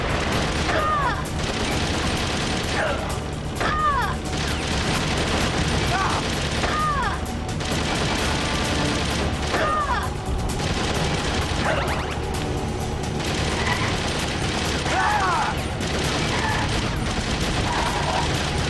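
Gunfire fills the whole stretch in Metal Gear Solid: The Twin Snakes, with loud, dense bursts repeating over a busy game soundtrack and mechanical clatter, at close range.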